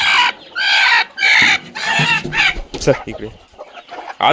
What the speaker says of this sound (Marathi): ही बघा एक कोंबडी अजून